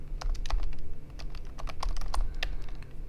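Quick typing on a computer keyboard, a rapid irregular run of light key clicks heard close and fairly quiet, with no talking.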